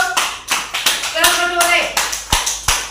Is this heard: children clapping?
yes